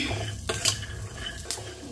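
Food slowly roasting in a pan on a low flame gives a soft, continuous crackle, punctuated by a few sharp clinks and scrapes of a spoon against the pan, heard up close with no voices.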